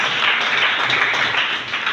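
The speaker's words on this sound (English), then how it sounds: "Can we now have a round of applause?" A crowd at a school event marking Wole Soyinka's birthday gives a short, loud round of applause, dense clapping that fills under two seconds.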